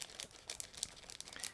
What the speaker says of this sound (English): everything is sealed into one plastic bag, so that's why I'll have to use scissors in order to open it